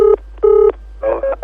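Telephone keypad dialing: two long, clean tones followed by three shorter quick beeps, loud and close with a low hum underneath and no voices.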